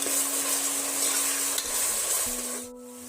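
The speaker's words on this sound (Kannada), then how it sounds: "ಬೆಳ್ಳುಳ್ಳಿ ಪೇಸ್ಟ್ ಹಾಕಿದ್ರಿ ಇದಕ್ಕೆ ಎಣ್ಣೆ ಒಳಗನೆ ಅದನ್ನು ಸ್ವಲ್ಪ ಘಮ ಹೋಗುವಂಗೆ ಫ್ರೈ ಮಾಡ್ಕೋಬೇಕು" Garlic paste frying in oil for biryani, a dense steady hiss of sizzling oil with a faint scraping stir and a low steady hum underneath, close and even, without any talk.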